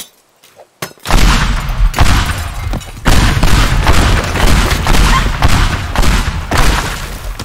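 Heavy explosions from bombing in the destruction game Teardown, a loud barrage of booming blasts and crumbling debris that begins after a second of quiet and rolls on almost continuously, with brief dips between bursts.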